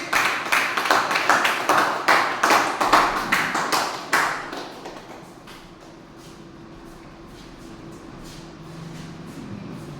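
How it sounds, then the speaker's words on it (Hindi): An audience at a Safe Shop venue presentation claps in a quick, steady rhythm for a few seconds to welcome achievers onto the stage, then the clapping fades out into quiet room noise. "जोरदार तालियों से उनका स्वागत करें"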